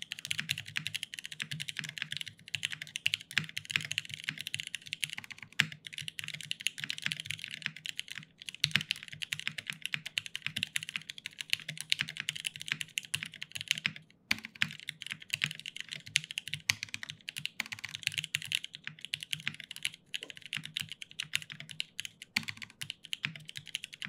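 Steady typing on a rebuilt Jane CE mechanical keyboard, with dense, continuous clacking keystrokes at an even rhythm and moderate volume, close to the microphone with no voices.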